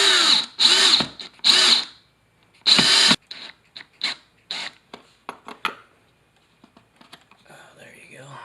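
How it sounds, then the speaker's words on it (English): A power drill boring a hole while installing a curtain rod: several loud whirring bursts of a second or so each, close up, followed by shorter stuttering pulses that taper off, with brief quiet gaps between. "then I'll drill the hole for that one after it's locked into place."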